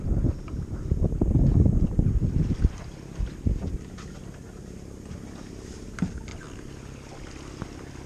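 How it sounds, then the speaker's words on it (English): A Nova 28 sailboat sails solo in light wind toward the Bay of Islands at a few knots, with a steady low rush of water and wind, louder hull noise early on, then a softer even wash with occasional knocks. "Just enough wind to get us past here."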